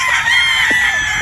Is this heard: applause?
no